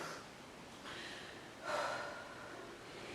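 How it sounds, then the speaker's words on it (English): Deep breaths taken during a Pilates floor exercise: two or three soft airy inhales and exhales, with a fuller, louder breath midway, close and quiet. "take a couple of deep breaths there"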